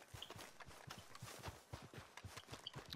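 Horse hooves clip-clop in the video game Red Dead Online, a quick, regular trot of soft, close hoofbeats that stays faint and continues for several seconds with no talking.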